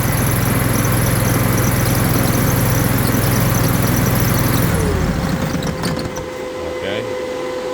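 A Dingo TX420 compact utility loader engine runs loud and steady up close, then winds down and shuts off when a fuse is pulled, leaving faint residual noise.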